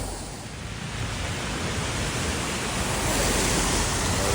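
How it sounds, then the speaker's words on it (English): Ocean waves wash in on the Mediterranean shore at Menton, a steady broad hiss of surf that swells slightly louder toward the end, with no voices. "The waves coming in."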